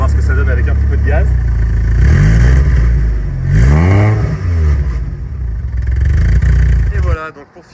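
Golf 1 GTI Cabriolet with a non-original exhaust, heard close up as it idles with a deep burble and then revs up sharply several times in rising and falling sweeps before cutting off abruptly at the end.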